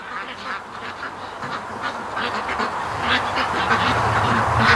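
Ducks quacking in a growing crowd around a feeder near a gate, with repeated calls close by that rise in number and loudness as more birds arrive.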